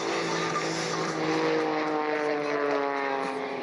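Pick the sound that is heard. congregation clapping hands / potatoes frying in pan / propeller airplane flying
propeller airplane flying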